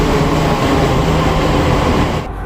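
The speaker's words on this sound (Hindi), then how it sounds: "अब हम उस मेट्रो में सवार हैं" A Delhi Metro train on the Yellow Line between Huda City Centre and Samaypur Badli, heard from inside as a loud steady rumble and roar that drops off slightly at the end, with no talking.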